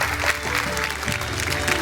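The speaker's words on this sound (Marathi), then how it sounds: "एकदा जोरदार टाळ्या झाल्या पाहिजेत" Loud, steady applause from a studio audience on a Marathi TV show fills the moment, a dense wash of clapping that holds its level without a break for about two seconds.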